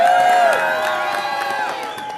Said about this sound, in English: Let's give her the applause she deserved.